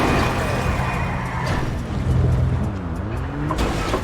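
A car in a racing video game climbs a hill, its engine droning and rising and falling in pitch, with brief tire squeal, close and fairly loud.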